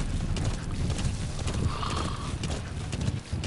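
In Metal Gear Solid V: The Phantom Pain, steady clip-clop of horse hooves with a horse whinnying midway, loud and close over a busy rumbling background.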